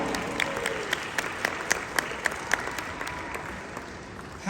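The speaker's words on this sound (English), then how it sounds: "Huge applause." Audience applause at a convention panel for horror makeup and special effects, a steady wash of clapping from a crowd filling the room, with sharper individual claps standing out near the front.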